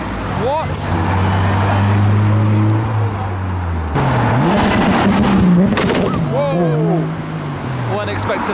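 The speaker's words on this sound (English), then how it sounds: "Whoa! Weren't expecting that. Turbo Civic." A turbocharged Honda Civic passing at a Japanese modified car meet, its engine droning and rising as it goes by close and loud, with people talking and shouting over it.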